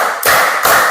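Students in a classroom clap in unison as a patterned-clap ice breaker, two crisp, loud group claps less than half a second apart with a short room echo.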